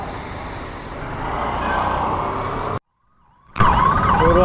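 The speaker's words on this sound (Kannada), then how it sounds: "ಇವರು ಆಂಬುಲೆನ್ಸ್ ಬಂದಿದೆ" An ambulance siren wails on a road amid traffic noise, loud and steady, drops out briefly, then returns louder and closer with a rising-falling tone.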